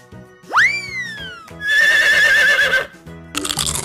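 A horse whinnies loudly and close, one rising cry that falls away, followed by a longer quavering neigh, then a short burst of rougher noise at the end.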